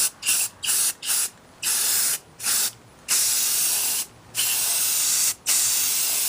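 Bursts of aerosol spray paint hiss as a textured part of a 1966 Ford Thunderbird is coated in white, in about ten short and longer pulses with brief silent gaps between them.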